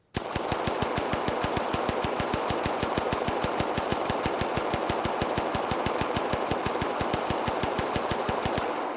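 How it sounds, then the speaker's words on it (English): A VR recoil training rifle fires in a very rapid, even stream of sharp mechanical clacks as the trigger is pulled as fast as possible, loud and continuous for about nine seconds without any talk. "just pulling the trigger as fast as possible"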